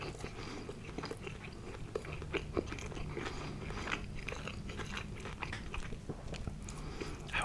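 Close, steady biting and chewing of a Reuben sandwich on marble rye, with crunchy bites and moist mastication running continuously, no talking.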